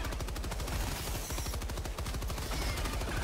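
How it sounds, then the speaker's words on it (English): Rapid machine gun fire in Helldivers 2, a steady, loud stream of evenly spaced shots rattling continuously without pause. "Machine gun."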